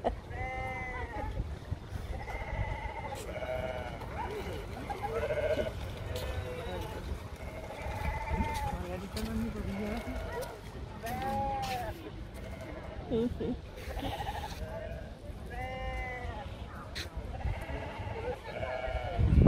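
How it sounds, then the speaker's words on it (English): Sheep at a biopark near a lake, bleating repeatedly in wavering calls that overlap through the whole stretch, some near and some farther off, with people talking in between. "It's these sheep."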